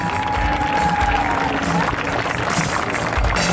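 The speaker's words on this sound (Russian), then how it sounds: "Аплодисменты Ире!" Spectators at an outdoor air show applaud an aerobatic display by a Yak-54 team. Loud, continuous clapping blends with crowd noise, an amplified announcer's voice and steady hum from the open-air setting.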